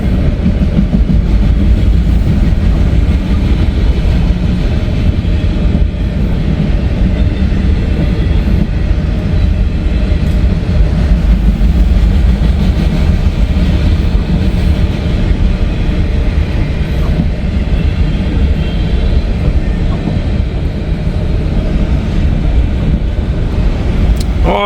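Train passing through a snowy junction during switching, a steady loud rumble with continuous wheel and rail noise throughout, close and unbroken.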